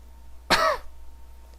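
A single short, harsh cough from a Dragon Ball XenoVerse video game character, close and fairly loud, followed by quiet.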